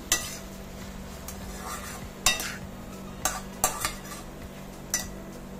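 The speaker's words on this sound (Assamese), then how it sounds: "দি গোটেইখিনি লৰাই দিছো" Pumpkin and potato curry with sugar being stirred in a pan, giving a few scattered scrapes and clinks of a utensil over a low steady background hum, with no talking.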